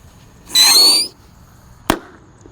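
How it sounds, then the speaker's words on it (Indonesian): A small yellow Thor mini rocket firework lit in the ground outdoors: a half-second whooshing, whistling launch burst, then a sharp single pop about a second later, loud and close against quiet surroundings. "di sini ada roket mini Thor warna kuning. Kita nyalakan di dalam tanah."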